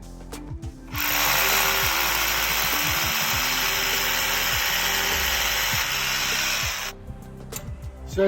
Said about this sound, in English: finished drilling out the holes